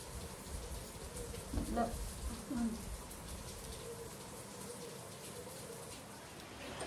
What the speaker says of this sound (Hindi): आज नहीं रुकेगी बारिश, पूरा दिन ऐसी रहेगी